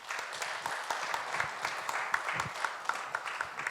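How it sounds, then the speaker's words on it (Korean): Applause from attendees at a Yongin city community social security council activity report meeting, a modest crowd clapping steadily with scattered sharper claps, moderately loud with no talk over it. "위원님들께 큰 박수 부탁드리겠습니다"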